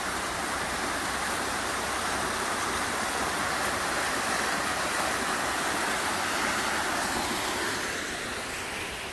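A river flows in a steady, broadband rush of water, continuous and fairly close for the whole stretch, with no voices present.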